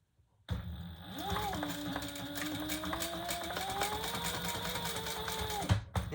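A sewing machine stitches across the seam allowance of a leather retro-style sling bag, running in one continuous whirring burst for several seconds with a rising then steady motor pitch, stopping abruptly at the end.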